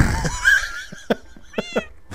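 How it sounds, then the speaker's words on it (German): A Minecraft cat gives a couple of short meows, near and moderately loud, followed by faint in-game clicks and thumps. "Miau, die verdammte Katze."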